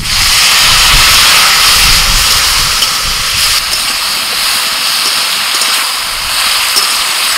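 Water added to a pan of potatoes and ground turmeric, chili and cumin produces a loud, continuous steamy hiss that slowly eases over several seconds, close up with no talk.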